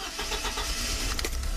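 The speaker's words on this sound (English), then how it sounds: "So start up the engine" A car engine cranks and catches, then settles into a steady running rumble, close and fairly loud with no talking.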